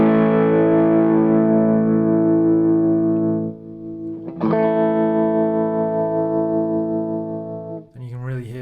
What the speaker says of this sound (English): then you can really hear the tremolo